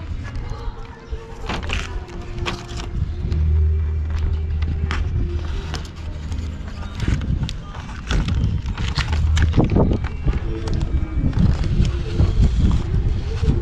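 Strong wind blows outdoors during a car window tint installation, gusting and buffeting the microphone in uneven rumbling bursts, with occasional thumps and speech mixed in.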